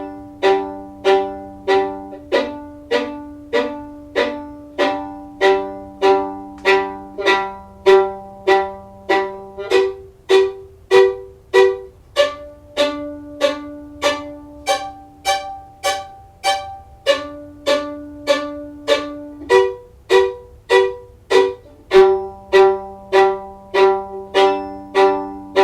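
Open strings sounded by dropping the bow onto them for strong momentary notes, in a repeated stream of short accented strokes at a brisk even pulse, loud and close, with the pitch stepping between strings and no talk.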